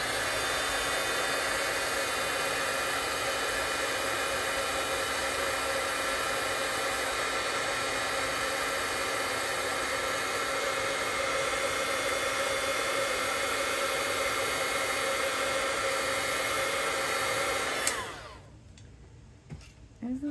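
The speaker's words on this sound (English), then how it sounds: "since I have my heat gun right here, I'm going to go ahead and do this one as well" Heat gun blowing steadily at close range to melt embossing powder on stamped paper, a continuous loud rushing whir that runs unbroken and then cuts off abruptly near the end.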